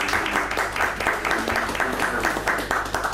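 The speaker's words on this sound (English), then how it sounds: "We're all clapping here" Audience applause after a talk at an academic event, a dense steady patter of many hands clapping at close range and unbroken for the whole stretch.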